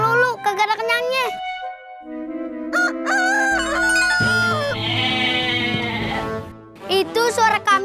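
On a Betawi lenong comedy stage, a performer's voice imitates a goat bleating and a rooster crowing in a loud back-and-forth duet, with drawn-out wavering calls close by and no other talk.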